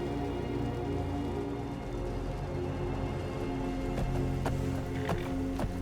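Horse hooves clopping along a road in Skyrim, a steady muffled plodding rhythm under a continuous low rumble like rain, with a few sharper clicks near the end and no talking.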